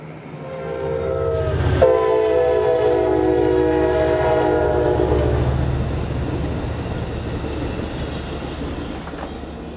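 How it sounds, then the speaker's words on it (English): A train rolls past with a loud horn blast in the first seconds, then a steady rumble and rail clatter that slowly fades over ten seconds. "Here comes the train."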